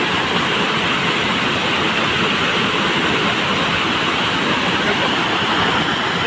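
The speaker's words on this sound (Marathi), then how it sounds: "पाणी वगैरे पण जास्त आहे तर तुम्हाला व्यवस्थित आवाज वगैरे पण येणार नाही" Rushing water pours down a rocky cliff face, a loud, continuous broadband roar that holds steady without pause and drowns out everything else.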